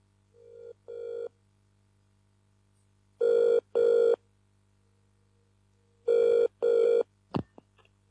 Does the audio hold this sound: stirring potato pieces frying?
no